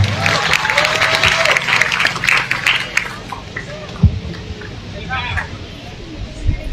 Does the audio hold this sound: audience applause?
yes